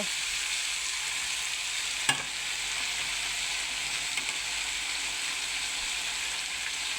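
Vegetarian long beans with holy basil stir-fry in a hot pan, giving a steady loud sizzle with one sharp utensil clack and a fainter scrape later, no talking.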